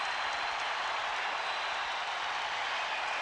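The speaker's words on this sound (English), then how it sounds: "And the crowd reacting to this little spurt" Basketball arena crowd in a 1993 Bulls vs Cavaliers playoff game cheering a home scoring spurt, a steady dense roar of cheers and applause filling the whole moment without any clear talk.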